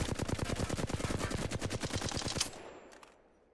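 Automatic gun fire in Apex Legends, a rapid steady burst of loud close shots with recoil, about two and a half seconds long, then cutting off into a fading tail and a few faint clicks.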